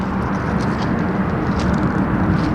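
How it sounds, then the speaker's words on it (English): Jet aircraft engines roar overhead at Denver International Airport: a steady, heavy, broadband rumble that stays loud and even throughout, with no voices. "Sound of those jet engines roaring over your head."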